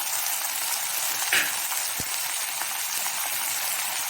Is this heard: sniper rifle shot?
no